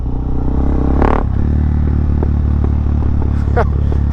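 Carbureted motorcycle engine, carb tuned at sea level, engine braking downhill at altitude, with loud close exhaust rumble and a few sharp rich pops and crackles breaking through.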